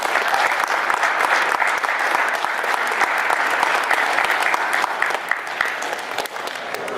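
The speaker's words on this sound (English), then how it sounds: "let's give them a round of applause" Dense, steady applause from a crowd honoring student athletes at a Union High School letter-of-intent signing, loud and continuous throughout, with a brief voice underneath.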